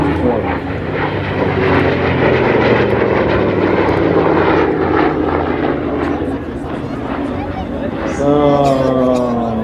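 Fighter aircraft passing at the Habsheim airshow, a loud, sustained engine roar that builds and holds near, with a rising whine near the end, over crowd murmur.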